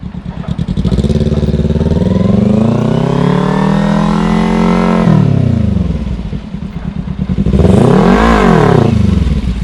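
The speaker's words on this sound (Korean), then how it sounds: "RPM 조금 더 그리고 안 클러치해서 클러치 툭 튕기고" Motorcycle engine revving repeatedly during clutch wheelie practice, rising and falling in long pulls, then a brief lull at idle before a sharp rev that climbs and drops; loud and close, no talk.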